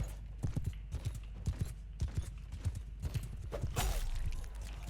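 Rapid clip-clopping hooves of horse archers riding together in a medieval battle video game, a steady galloping clatter with scattered thuds and a brief burst of louder noise near the end.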